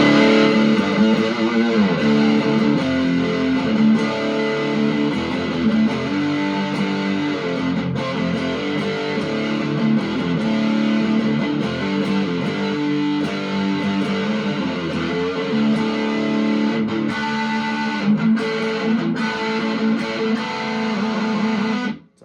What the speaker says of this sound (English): Got the DS1 thrown in front of it with the distortion cranked all the way up.